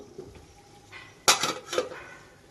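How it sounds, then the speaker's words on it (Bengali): A metal lid is set onto a cooking pot of vegetables simmering for a Bengali shukto, with two close clanks about half a second apart after some faint handling noise. "কষিয়ে নিয়ে নাড়াচাড়া করে নিয়ে ঢাকনা বন্ধ করে দেব সিদ্ধ হওয়ার জন্য"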